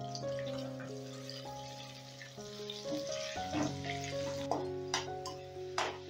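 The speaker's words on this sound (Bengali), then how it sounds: "নুন হলুদ দিয়ে আলুটা লাল লাল করে ভেজে নেব" Potato pieces with salt and turmeric fry in oil over raised heat, giving a soft, steady sizzle with occasional crackles beneath sustained tonal background music.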